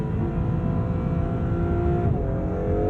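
An Acura NSX Type S with all-wheel drive accelerates hard out of a corner, giving a steady, loud engine drone heard from inside the car with no talking.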